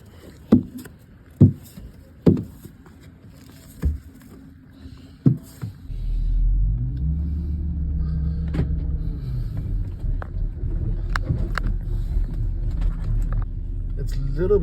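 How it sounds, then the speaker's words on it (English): A car starting off on icy, snowy roads during a Ukrainian winter: several sharp clunks and knocks, then a steady low engine and tyre rumble builds and holds to the end. "It's a little bit scary driving in the ice and the snow for my first time"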